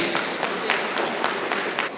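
An audience claps to welcome a speaker at a Rotary club event, a brief burst of dense, steady applause from a roomful of people, close and fairly loud.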